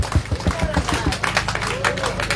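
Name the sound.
audience applause at a ceremony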